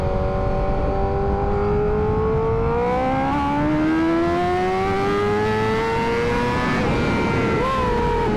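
A Honda CBR 1000RR-R superbike being ridden at steady speed, its engine note rising smoothly across the run with a loud, continuous roar and a brief dip near the end.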